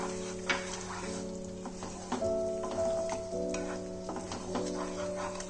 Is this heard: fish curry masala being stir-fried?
yes